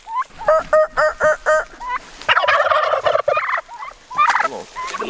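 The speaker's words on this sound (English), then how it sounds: "I'm loving these turkeys" Farm turkeys gobbling loudly and close, a rapid rhythmic series of gobbles followed by overlapping calls from several birds in a noisy flock.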